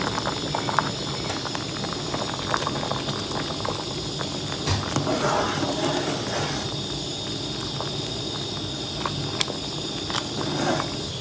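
A pot of Thai curry with puffball mushrooms and bamboo shoots at a rolling boil, giving a steady close bubbling and gurgling with occasional louder pops, heard alone with no voices.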